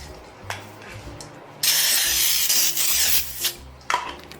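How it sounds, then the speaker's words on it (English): A loud, close aerosol spray of baking spray into a loaf pan hisses for over a second, followed by a couple of shorter spurts amid light handling clatter. "now I'm gonna take my baker's joy here and give it a good spray"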